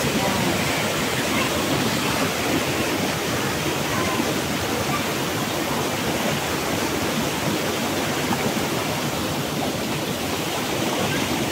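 The waterfall at Nangoloan Falls pours in a steady, loud, broadband rush that holds unchanged throughout.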